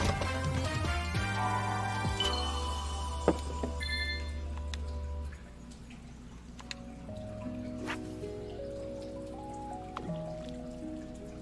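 A phone notification chime plays during a Sonic Frontiers gaming session, a short series of tonal beeps over game music and effects, with clicks and tones continuing afterward.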